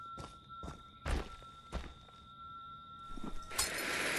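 Arrow or bolt from the Friday the 13th game striking the ground with a few dull thuds and thumps, near and fairly loud, over a steady in-game ambient hum.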